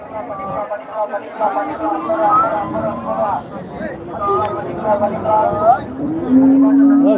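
Cattle low and moo at a busy livestock market in Karimangalam, Dharmapuri district, with several drawn-out calls rising over a steady babble of crowd chatter and nearby voices.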